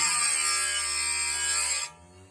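A sharpener grinds against the carbide teeth of a saw blade with a steady, high, whining hiss that runs for about two seconds and then cuts off abruptly.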